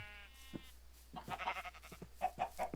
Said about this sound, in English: Here's my sheep pen.